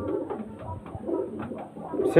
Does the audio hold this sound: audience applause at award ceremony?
no